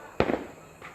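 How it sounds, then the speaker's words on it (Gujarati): A mirchi bomb firecracker goes off during Diwali with one sharp, close bang, followed by a short crackling rumble and then a fainter pop near the end. "તો જો આપણો હોય મેલ દીધો મિર્ચી બોમ્બ."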